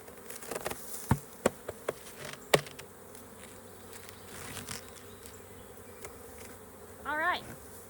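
Honey bees buzzing during a beehive inspection, a steady faint hum from the hive with scattered close clicks and knocks, then a louder, nearer buzz as a bee passes near the end.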